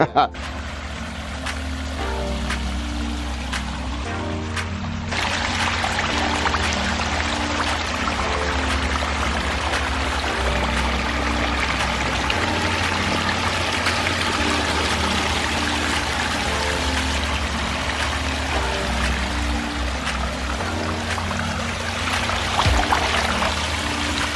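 Backyard pondless waterfall, recently rebuilt, pouring steadily in a continuous broadband rush of falling water, with voices talking over it throughout.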